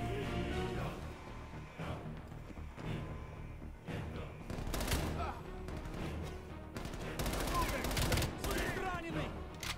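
Repeated volleys of gunfire in the Call of Duty Cold War campaign, fairly faint and busy, with irregular bursts, thuds and crashes spread across several seconds and speech mixed in.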